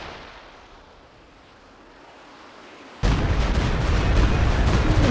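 A Stuka rocket barrage hits in Company of Heroes 2. Quiet ambient noise suddenly gives way to a loud, dense roar of overlapping explosions that keeps rumbling to the end.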